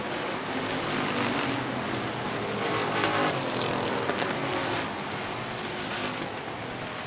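Dirt-track race cars roar around an oval at a Dominator shootout event, a dense pack of engines droning continuously and loudly, swelling slightly as a group passes, with no talk over it.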